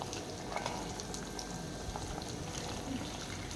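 Urad dal frying in oil in a pan while being mixed, giving a steady, close hiss and sizzle with soft scraping of the stirring throughout.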